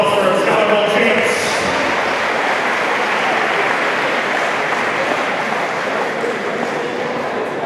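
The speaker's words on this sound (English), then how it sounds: "a big round of applause for our Dodgeball champs" A school orientation crowd applauds the dodgeball champions, a dense, steady wash of clapping that stays loud throughout with a faint murmur of voices underneath.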